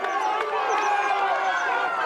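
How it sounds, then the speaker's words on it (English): Spectators cheer and shout as waka canoes near the finish of a junior men's race on a river, a steady wash of crowd voices with scattered yells, fairly close and continuous. "Come on, let's cheer them in."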